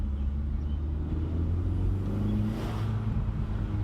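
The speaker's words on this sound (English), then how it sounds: "here's a second gear pull" A stock Hyundai Veloster Turbo with its standard intake pulls hard through second gear, a steady loud engine drone holding from start to finish with faint turbo and rushing air layered over it.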